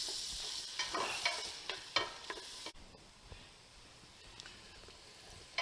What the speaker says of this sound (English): Now we're gonna go ahead and cook these onions in this butter and bacon grease for about 3 to 4 minutes